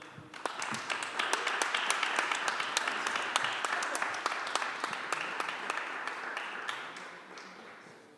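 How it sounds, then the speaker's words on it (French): A conference audience claps steadily and warmly for several seconds at an award presentation, a dense crowd applause that fades slightly toward the end. "on peut l'applaudir"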